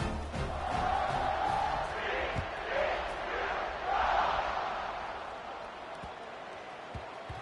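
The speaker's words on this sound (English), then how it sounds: "this crowd is buzzing after that last score" A football stadium crowd buzzes after a touchdown, a broad, swelling roar with cheering that rises and fades, heard at a distance under a voice talking.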